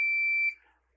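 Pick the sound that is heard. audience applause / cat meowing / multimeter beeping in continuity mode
multimeter beeping in continuity mode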